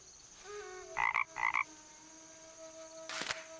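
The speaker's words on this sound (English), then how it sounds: "Is that a frog I hear?" At a frog pond in the point-and-click game The Night of the Rabbit, a frog gives two clear, close croaks in quick succession over soft game tones, with another short rasp near the end.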